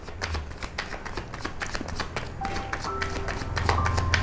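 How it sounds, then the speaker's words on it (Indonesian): Tarot cards are shuffled and laid out with rapid riffling taps and soft slaps, close and continuous, joined by faint tonal hums toward the end. "Kita lihat, kita buka kartu 5 dulu."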